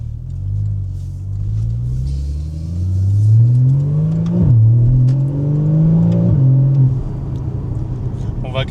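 A Porsche 981 Cayman engine revs loud and close, its pitch climbing steadily through two sharp rev peaks and falling back after each one before a steady hold, with a low rumble beneath.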